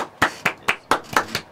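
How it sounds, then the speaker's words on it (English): Live audience clapping in welcome, a sparse round of about six distinct, crisp hand claps in a quick irregular rhythm, close and clear with no talk over them. "let's welcome them with a warm, warm round of applause"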